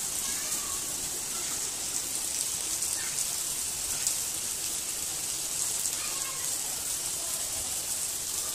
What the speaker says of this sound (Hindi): यहाँ बारिश बहुत ज़्यादा तेज़ हो रही है